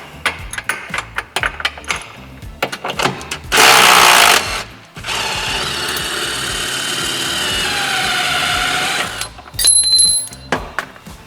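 A heavy-duty impact wrench works a bolt free on a Denago Nomad, with loud, close bursts of hammering before and after a long, steady motor whine.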